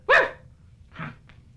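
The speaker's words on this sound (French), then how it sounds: "Celui-là, le petit chien." A small dog gives two sharp barks about a second apart, the first louder and nearer, followed by a faint yip, with no talking.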